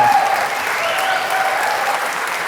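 Big applause from the audience at a community awards ceremony, a dense, steady wash of clapping that fills the room for the whole stretch, with a few faint whistles on top.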